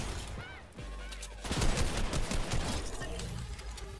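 Rapid bursts of gunfire in a Fortnite match, with a quick volley followed by heavier sustained automatic shooting, loud and close, with no talking over it.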